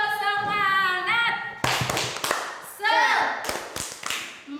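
Indonesian fourth-grade classroom doing a group spirit clapping chant, with a teacher's voice leading and children's claps landing in a quick rhythmic pattern alongside the chanted words.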